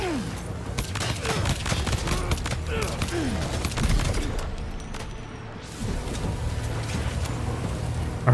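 Gunfire rings out in the video game Death Stranding 2 as heavily armored enemies at a camp are fought, with repeated sharp shots and impacts over a dense, rumbling battle background.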